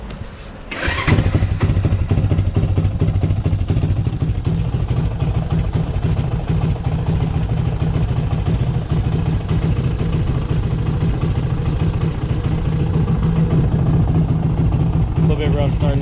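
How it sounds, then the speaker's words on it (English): A Grom clone motorcycle fitted with a Zongshen 212 engine starts up abruptly after a brief pause, then idles loudly and close with a steady, slightly rough low throb that continues to the end. "let's listen to some engine noises."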